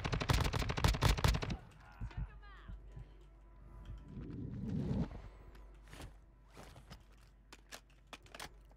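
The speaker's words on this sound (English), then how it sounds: "So, what the fuck is shooting at us?" Video game gunfire: a loud rapid burst of automatic shots opens the scene, followed by scattered single shots and distant pops, with quieter rustling in between.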